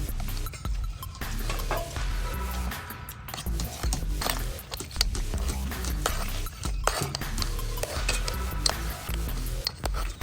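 A utensil mashes potatoes with onion and carrot in a pan, producing repeated soft knocks, scrapes and clinks against the metal at an uneven pace, close and moderately loud with no talking.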